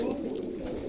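A pair of Rajshahi Giribaz pigeons facing each other give a close, continuous low cooing that fills the whole short moment without a break.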